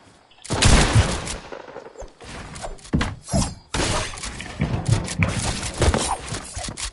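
Rapid gunfire bursts and sharp impact cracks from a first-person shooter game, loud and close, with a quick barrage early on and more scattered shots and thuds afterward, no talking.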